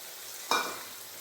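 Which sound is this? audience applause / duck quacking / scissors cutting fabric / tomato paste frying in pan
tomato paste frying in pan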